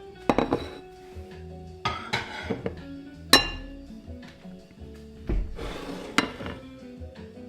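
Dishes and cutlery clatter in a home kitchen while cordon bleu is cooked, a series of sharp clinks and knocks of plates and utensils set down in irregular bursts, close and fairly loud with quieter pauses between.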